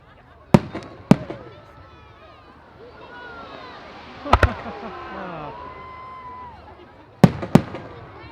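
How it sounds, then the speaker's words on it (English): Six-inch yellow serpent fireworks bursting wide at a European firework demonstration festival, with sharp loud bangs in pairs at the start, middle and end, and crackling trails between them. "2 times 6-inch yellow serpents, fired one on test, and they were very wide bursts"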